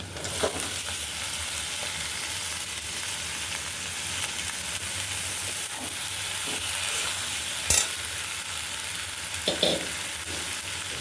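Okra frying in oil with turmeric, a loud continuous sizzle with crackle throughout and a few sharp clanks of stirring against the pan.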